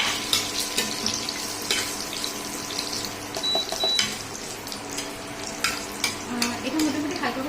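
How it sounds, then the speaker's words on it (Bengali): Lentil dumplings (bori) lightly frying in oil in a home kitchen, a steady soft sizzle with clinks and stirring knocks, a running tap or water noise mixed in and a brief tonal whistle. "আমি জাস্ট বড়িগুলোকে তেলের ওপরে দিয়ে দিচ্ছি। তো এটা জাস্ট হালকা একটু ফ্রাই হয়ে যাবে।"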